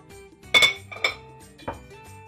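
Meat and garlic set into the ceramic base of a tagine dish in a kitchen, giving a few sharp clinks and knocks of utensil against dish spaced over two seconds, close and clear with no talk.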